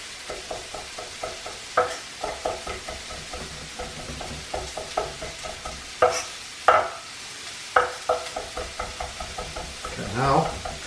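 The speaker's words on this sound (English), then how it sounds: "Just mince this up." A knife mincing smashed garlic on a cutting board, a quick run of light, uneven taps repeating for several seconds, with a few louder knocks mixed in and a faint sizzle of frying in the background.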